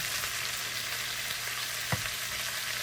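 Steak with garlic, onion and peppers frying in a pan, a steady soft sizzle with one brief clink or scrape partway through, heard alone without talk.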